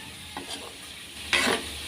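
Food sizzles softly in a pan, with a brief scrape of stirring and a louder burst of crackling frying near the end, as potatoes are fried for kaldereta.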